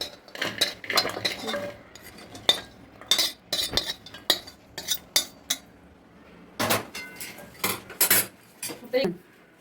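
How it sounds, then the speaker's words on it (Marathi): Repeated scraping and clinking of a utensil against a metal pan, irregular bursts close by as roasted dry dates are scooped out, with no talking. "आपलं खारीक भाजून झाली आहे. आता आपण भांड्यात काढू."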